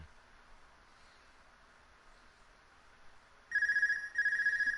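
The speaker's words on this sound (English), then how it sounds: "And there's the phone call." A telephone rings in the Trails of Cold Steel video game, a bright electronic trill arriving after a few seconds of near silence, with two close bursts that are loud and clear.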